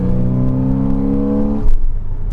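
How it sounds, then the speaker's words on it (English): A 2006 Porsche 987 Cayman S flat-six with aftermarket air intakes and a manual gearbox revs hard under acceleration, a loud, close, rising intake howl that drops abruptly as the driver shifts gear. "It also has an aftermarket set of air intakes as well for that flat six, which provide even more induction noise."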